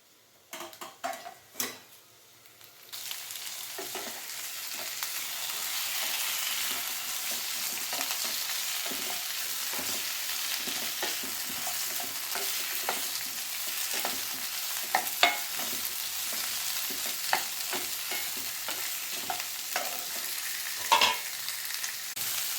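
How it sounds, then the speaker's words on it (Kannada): Onion roasting in a pan for hotel-style kabuli chana masala, a continuous close sizzle broken by repeated scraping stirs and occasional utensil taps against the pan, with a few louder knocks near the start and no speech. "ನೋಡ್ಬೋದು ಹುರಿದಾಗಿದೆ, ಬಣ್ಣ ಚೇಂಜ್ ಆಗ್ತಾ ಬಂತು ನೋಡಿ."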